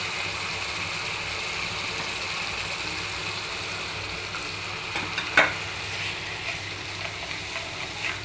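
Spice masala sautéing in a pan for prawn curry, a steady close sizzle and fry with faint stirring scrapes and a small clatter partway through.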